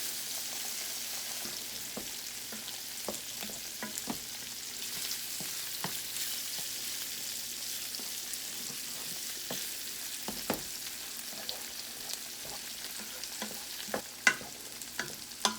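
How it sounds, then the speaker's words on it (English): Sausage sizzles in hot bacon grease in a pan, a steady soft crackle with scattered louder pops and occasional stirring scrapes, with no voices. "we're going to throw this sausage into that bacon grease"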